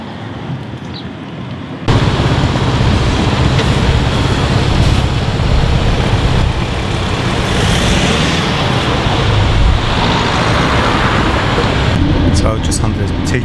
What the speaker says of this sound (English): Just on the T12 bus going to Newtown first and then on to Rosebrook.